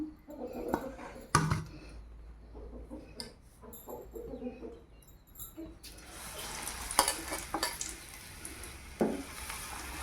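Batter-dipped green chilies for chili bajji drop into hot oil and start a soft, steady sizzle halfway through, after a few quiet clinks and handling sounds; the whole scene stays low and close.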